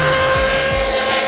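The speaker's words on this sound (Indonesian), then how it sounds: "Dari jauh kita udah denger nih V10-nya." A Toyota Supra fitted with a Formula 1 V10 engine gives a loud, steady high-pitched whine with rising and falling sweeps underneath, heard alone without talk.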